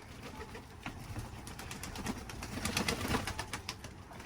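Pigeons cooing softly on a humid, rainy day, low murmuring calls with some rustling and light wing movement, faint against a steady background hiss.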